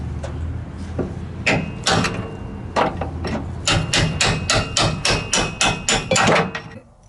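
Hammer blows drive a pin to knock out a worn bushing from a GM door hinge, a run of sharp metallic strikes that speeds into a rapid, loud series of about a dozen hits.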